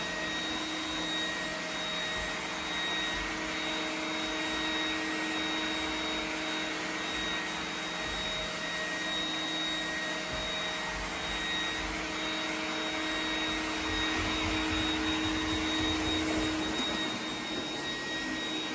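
An iRobot Roomba 980 robot vacuum runs steadily while cleaning a floor, giving a constant loud suction whir with a faint high whine and no pauses.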